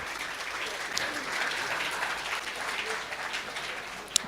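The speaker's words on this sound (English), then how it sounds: "big round of applause" Audience applause for a panel at an investment summit, a steady broadband patter of many hands clapping throughout, moderately loud and fairly close, with a sharp louder clap near the end.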